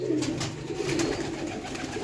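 Pigeons coo in soft, throaty, repeated rolls, close and steady, several birds overlapping in a loft with no talk.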